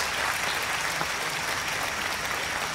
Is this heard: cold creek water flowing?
no